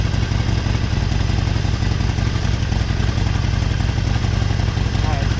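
A Harley-Davidson Forty Eight motorcycle with a new intake idles loudly and steadily with a thumping rhythmic pulse, close and constant throughout.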